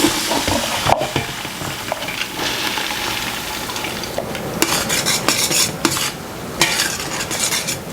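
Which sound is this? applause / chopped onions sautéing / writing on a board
chopped onions sautéing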